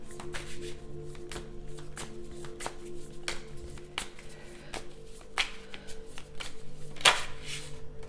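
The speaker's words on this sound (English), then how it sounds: "let's pull one more card" Tarot cards being shuffled and drawn close up, with a regular series of crisp snaps and riffles about every half second over a faint steady hum, with no talking.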